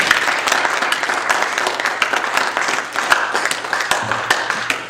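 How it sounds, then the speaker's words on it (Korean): A church congregation at a Korean Presbyterian church in New Jersey gives the choir a loud, close round of clapping. The sound stays brisk and continuous throughout, with no talking. "우리 큰 박수로 한번 격려합시다"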